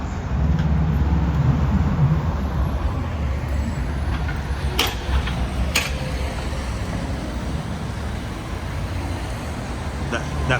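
A London bus on a Brixton street at night, its low engine rumble running steadily close by within constant roadway traffic noise, with a couple of brief sharp clicks and faint voices in the background.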